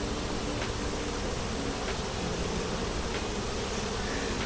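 Bees buzz around a three-story beehive being moved, a dense, continuous hum that stays loud and even throughout, with no voices.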